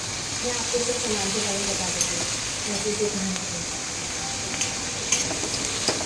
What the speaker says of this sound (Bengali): এবার আমি এটা একটু নাড়িয়ে দেবো